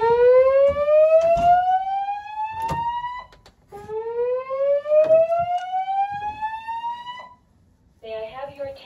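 A dormitory fire alarm test sounds two long rising siren sweeps, loud and close, each ending abruptly, followed by the start of a pulsing tone.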